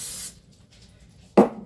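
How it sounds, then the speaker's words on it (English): A can of cooking spray gives two quick hissing bursts into a measuring cup in a kitchen, a short spray at the start and a louder, closer one after a brief pause. "I always spray my"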